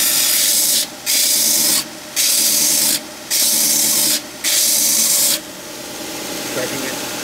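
Power sanding on a glued-up wooden piece, in four loud bursts of abrasive rubbing roughly a second apart, with short pauses between them and lower handling noise after the last burst.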